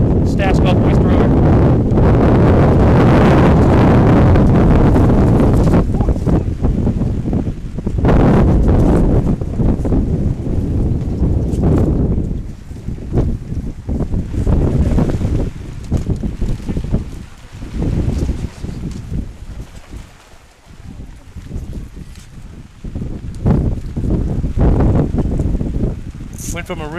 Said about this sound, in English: Went from a really nice day to a really windy day.